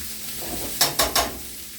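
Green beans fry in a pan, a faint steady sizzle broken by three quick sharp scraping stirs near the middle, no talking.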